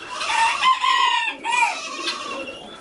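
A rooster crows inside a goat barn, one full, close cock-a-doodle-doo with a brief break in the middle, then trailing off at the end.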